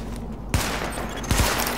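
MP5 submachine gun fire at highlighted targets on a range in The Division: a loud continuous volley of rapid shots with two sharp onsets, no talk over it.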